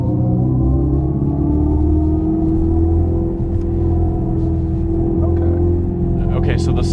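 A 2025 Dodge Charger Daytona electric muscle car accelerating, a loud, steady droning rumble with a rising tone heard from inside the cabin.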